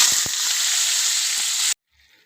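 Hot oil with cumin seeds sizzles steadily in a kadai as potatoes go in, a loud, dense hiss with a couple of thumps near the start, cutting off abruptly to near silence.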